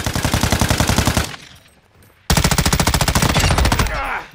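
Rapid automatic gunfire in a shooter video game as a player fires at an enemy fighter: two long, loud, close bursts separated by a brief pause.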